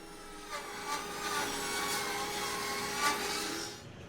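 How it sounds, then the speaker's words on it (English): A saw rips 2x12 construction lumber into 2-inch strips, a continuous loud whining cut with slight rises and dips as the blade feeds through the board, ending abruptly. "starting off by ripping out 2-inch strips from all of the 2x12s"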